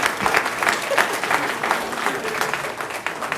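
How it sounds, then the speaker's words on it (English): An audience at a city council meeting gives a brisk round of applause, with irregular clapping that stays steady and moderately loud for a few seconds. "Let's give them a round of applause."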